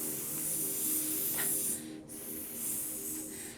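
A child or teacher imitates a snake's hiss during cobra pose in a kids' yoga class, a breathy spray-like hiss that fades out briefly near the middle and then resumes, with no talk over it.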